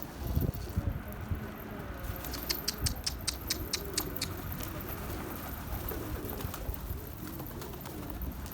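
Pigeons coo softly in the background amid faint outdoor noise, with a brief flurry of clicking partway through.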